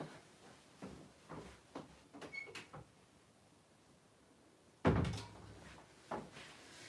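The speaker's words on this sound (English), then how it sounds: "let me just shut the door just so nobody comes in" An indoor door is pushed shut with one solid thunk near the end, after several faint knocks and shuffles. The closing is close by and fairly loud against a quiet room.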